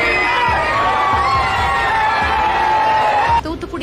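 A crowd of devotees cheers and shouts for Premalatha Vijayakant at the Tiruchendur Arulmigu Subramaniya Swamy temple in Thoothukudi district, a loud, steady roar of voices that drops off sharply near the end.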